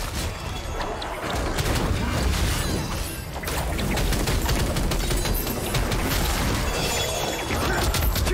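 Explosions in the video game Lost Ark form a dense, loud, continuous barrage of crashing blasts and shattering bursts that runs without pause.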